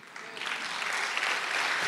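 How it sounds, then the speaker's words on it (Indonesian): A church congregation claps during a sermon, a broad wash of applause swelling slightly and holding steady for a couple of seconds. "Tepuk tangannya bisa lebih dahsyat dari ini, saudara"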